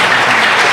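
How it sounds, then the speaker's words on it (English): Applause from the audience at a talk on Taíno survival and identity, a brief, loud, dense burst of clapping close by with no speech. "give yourselves a round of applause"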